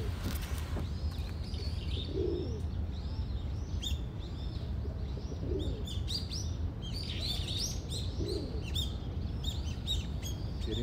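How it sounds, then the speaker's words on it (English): Pigeons outdoors on an Osaka morning, with a few low coos spaced several seconds apart under frequent bright chirps and tweets from other birds, moderately near against a steady background hum; no talking. "Did you hear those pigeons?"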